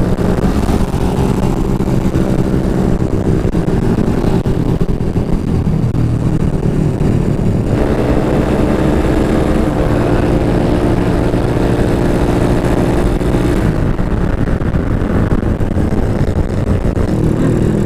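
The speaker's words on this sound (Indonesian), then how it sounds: "ini motor standar ya, jadi jangan dibully dan juga jangan ditiru" A stock motorcycle ridden at night along a road near Tretes, its engine droning steadily and loudly close by with shifting revs and no talk.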